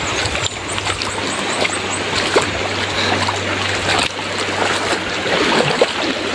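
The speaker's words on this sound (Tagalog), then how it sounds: "Medyo malakas yung daloy ng tubig." Strong river current rushing and churning in a continuous broadband wash, close and steady, with a low hum running underneath, along a rural riverside walk.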